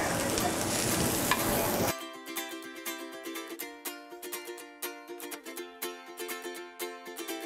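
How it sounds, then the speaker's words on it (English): After a brief noisy rush, ground beef sizzles and crackles in a pan with rhythmic scraping and stirring strokes, close up and steady. "you got to hear that sizzle, all right?"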